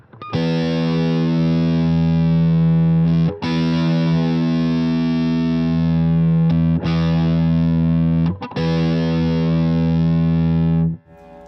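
Two distorted electric guitar amplifiers playing the same sustained notes together, loud and thick, with three brief breaks between held chords and no talking.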